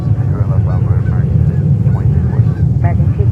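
A JetBlue airliner in a special livery departs New York JFK on an arctic-cold day, its engines a loud, steady low roar mixed with wind buffeting the microphone.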